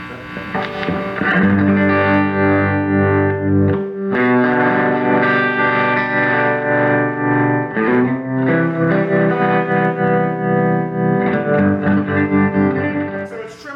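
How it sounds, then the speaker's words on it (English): A loud, sustained electric guitar tone through a Vox AC30 amp, pulsing with a wavering tremolo as chords ring out. "So I'm turning tremolo on now."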